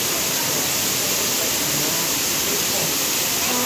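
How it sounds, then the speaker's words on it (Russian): A constant, loud rushing roar of falling water, broad and unchanging like a nearby waterfall, at a zoo waterfall in Wrocław, Poland. "Водопад"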